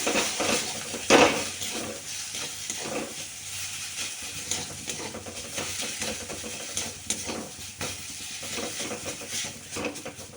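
Spiced potato filling for a cheese burger is stirred and fried in a pan, with a constant hiss and sizzle under repeated scraping clinks of a spoon against the metal; no talking.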